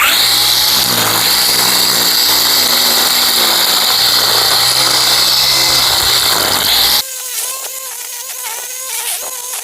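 A string trimmer cuts grass along the edge of a yard with a loud, steady motor whine for about seven seconds, then drops to a lower idle with lighter, intermittent sputtering.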